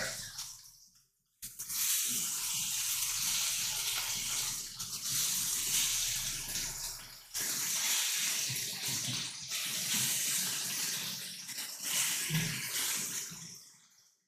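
Food sizzles loudly and steadily in a pan during a charcuterie cooking stream, a broad hissing sizzle that fills the clip after a brief quiet start, with a short dip midway and faint sounds beneath.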